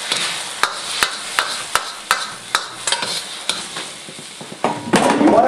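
Egg being stirred and fried in a wok for beef fried rice makes a sizzling bed cut by regular, sharp spatula strikes and scrapes about twice a second, close and loud, with no talking.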